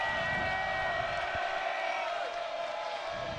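Crowd cheering at a basketball game between the Paladins and the Terriers, a steady roar of voices held at a moderate level throughout.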